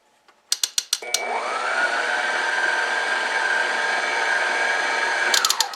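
A stand mixer whirs steadily through cherry kiss cookie dough for several seconds after a few sharp clicks, its motor hum holding an even pitch before winding down with more clicks at the end.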